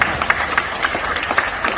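A small audience at a business presentation claps briefly, with scattered, uneven hand claps at moderate loudness.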